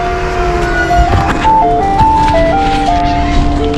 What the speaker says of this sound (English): I thought ice cream trucks were not around anymore.